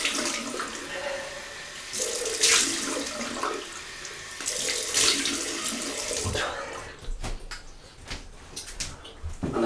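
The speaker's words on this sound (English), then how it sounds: "Rinse off again. Another cold one." A bathroom faucet runs cold water for a face rinse after a shave. It flows steadily and close for several seconds, then turns into choppier splashes and drips near the end as the water is cupped and splashed.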